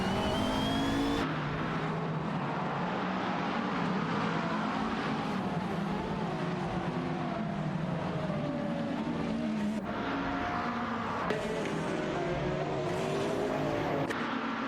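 Race cars such as a Renault Sport RS1 roar through a racing video game, steady engine drone with rising and falling gear-change pitch sweeps and abrupt cuts between cars, moderately loud and continuous with no talk.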